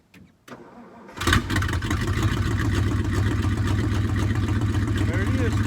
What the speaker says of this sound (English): we should have a truck that will sit here and idle